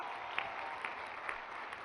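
Audience applause at an outdoor commemoration ceremony in Ayala, Morelos, a steady wash of clapping held at a fairly even level, with a few slightly louder claps standing out.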